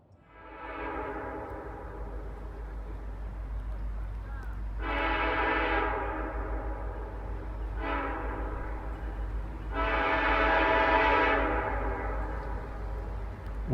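A freight train rumbles steadily by on its eastbound run toward a track diamond in Greenville, Florida, its horn sounding in several long, loud blasts over the continuous low roll of the railcars.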